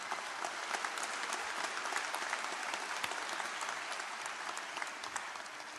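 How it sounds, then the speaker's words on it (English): Sustained audience applause at a college commencement ceremony, a dense, even wash of many hands clapping throughout, fairly distant and steady with no speech over it. "A round of applause for those nominees,"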